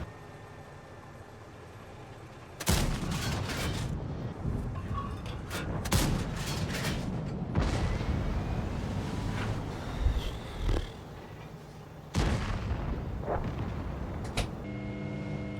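Tank cannons fire in the video game World of Tanks: three or four sharp, heavy booms spread over the stretch, each with a rolling tail, above a constant low engine drone.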